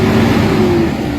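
A Toyota Hilux engine with throttle delay and loss of power holds a loud, close, steady revving drone with a strong low hum and no voices.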